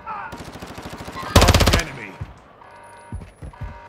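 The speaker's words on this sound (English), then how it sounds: "You are taking effective fire." Rapid automatic gunfire from a military shooter game, with a loud close burst in the middle followed by scattered heavier shots and engine rumble, partly over game radio chatter.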